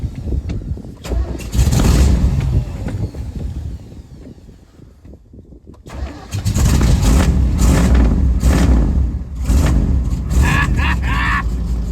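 Big block, cammed 1991 Chevy 3500 dually, parked for seven years, rumbling loud and close after starting, with a brief cut-out near the middle before it roars back and idles roughly, voices talking over it.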